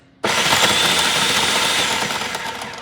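A food processor chops cauliflower very finely, running as one loud, steady, whirring burst that starts abruptly and carries on for a few seconds with no talking.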